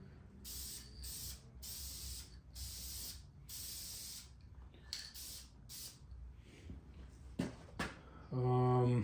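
Short bursts of spray paint hiss onto an SBC 383 stroker engine block in a light first coat, about eight close aerosol sprays separated by pauses, ending with a louder rattling sound.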